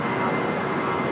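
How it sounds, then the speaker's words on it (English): Great Air Cargo Boeing 777 freighter at LAX airport, a loud, steady broadband jet engine roar heard briefly and continuously, with no talking. "Great Air Cargo, 777 freighter, turning left on the Alpha 8"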